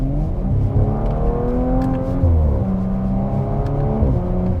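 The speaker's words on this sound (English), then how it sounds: "you can hear those burbles on the upshifts" Audi RS4 Avant B9 wagon under hard acceleration, its engine rising in pitch with quick upshifts and short exhaust burbles between gears, loud and continuous from inside the car.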